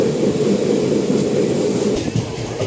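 A train rolling through Anaparthi railway station during an overnight journey, a loud, close, continuous low rumble of wheels and carriages with faint rattling and no talking.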